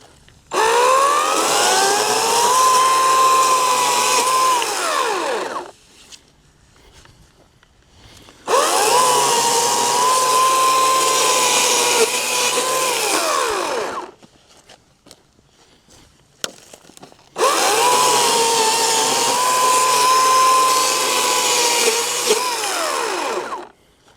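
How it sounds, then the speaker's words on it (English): An electric chainsaw cutting wood whines at high pitch in three long bursts of about five to six seconds each, separated by short quiet pauses. "wondering if I'm using an electric chainsaw, the answer is yes."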